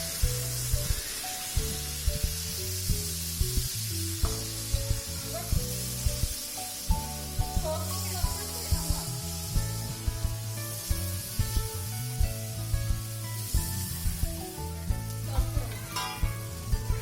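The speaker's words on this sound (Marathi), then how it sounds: "तव्यावर तेल टाकून आपला डोसा तयार करायला आपण सुरुवात करूया" Semolina dosa batter sizzles and fries in oil on a hot griddle, a steady close crackle with scraping and rubbing strokes from a spatula and soft background music.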